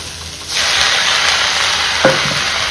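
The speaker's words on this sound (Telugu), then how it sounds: "ఇప్పుడు టమాటాలు వేసుకుందాం." Chopped tomatoes drop into a pan of frying broad beans and onions, and the oil erupts into a loud, steady sizzle. A quieter hiss comes before it, and a spoon scrapes and stirs briefly near the end.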